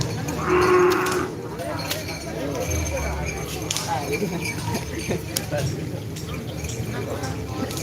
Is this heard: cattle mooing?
yes